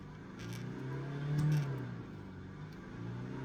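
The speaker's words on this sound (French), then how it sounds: "Et il fait tourner le moteur comme un connard." A car engine revs in a low, rumbling swell that builds to a peak and then falls back to a steady idle drone, fairly close and alone without talk.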